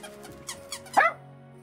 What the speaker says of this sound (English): You have a candy cane and a Chris Moose. He squeaks.